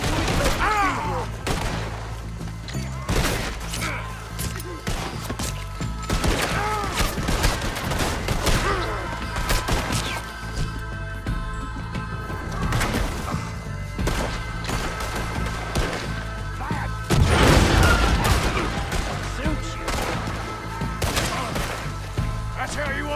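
Gunfire from a Red Dead Redemption 2 shootout with the Lemoyne Raiders rings out in repeated sharp cracks and bursts, with a loud heavy blast near the end and game sounds around it.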